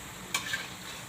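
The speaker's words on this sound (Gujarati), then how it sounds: "તો આપણે આ રીતે બધાય તળી લેશું રોલ આપણા" A soft, steady sizzle of sev rolls frying in oil, with one quick clink of a utensil early on.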